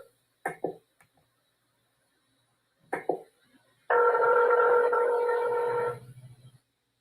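Telephone keypad tones from an automated call line: a few short dialing beeps, then a sustained multi-tone buzz lasting about two seconds, clear and close.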